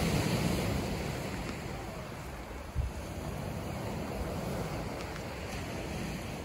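Sea waves at Hayling Island near high tide wash in a broad, continuous rumbling roar, with wind buffeting the microphone and one brief louder surge midway, no one speaking.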